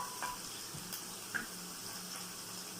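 Garlic sautéing in a pan as a quiet, steady sizzle with a few light stirring clicks, no voices over it.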